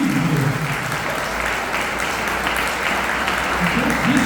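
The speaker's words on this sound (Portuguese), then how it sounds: "Se você crê nisso daí, dê uma salva de palmas para Jesus." A church congregation claps during a sermon, steady full applause throughout. A preacher's voice speaks over it at the start and again near the end.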